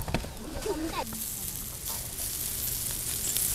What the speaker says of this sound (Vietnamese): Ui, nghe xèo xèo thích chưa anh em?